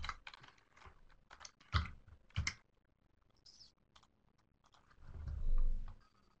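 Someone types on a computer keyboard, producing bursts of quick, close clicks with uneven rhythm and a few louder key strikes, then a pause and a soft low rustle near the end.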